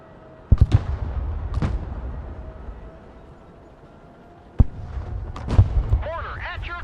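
An artillery fire mission in the video game Broken Arrow: a few sharp booming shots with rumbling decay, a quiet stretch, then more blasts and crackling, with radio-style voices talking at times.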